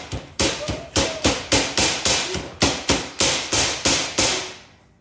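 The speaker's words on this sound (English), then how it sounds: "use the hammer to put the F down completely" Steady, loud hammer blows drive a shelving part into a Brightroom 5-tier heavy-duty boltless steel shelf, about a dozen sharp metallic strikes in an even rhythm, each ringing briefly before the next, with no talk.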